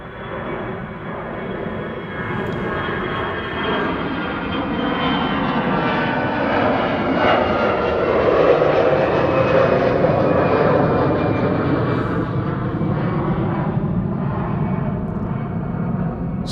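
Airplanes departing Amsterdam Schiphol Airport, a loud sustained engine roar that swells and then holds steady for several seconds, heard from outside with no talking over it.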